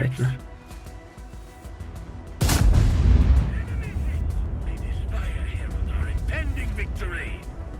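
A heavy artillery boom lands mid-clip and rumbles on, followed by distant mechanical clatter and faint warbling tones in a tank video game soundscape.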